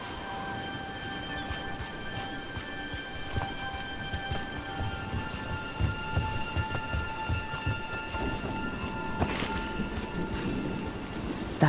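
Rain in the video game Dragon Age: The Veilguard, a steady wash of falling rain and drips with low thunder rumbling underneath, accompanied by faint sustained musical tones and a sharper burst near the end.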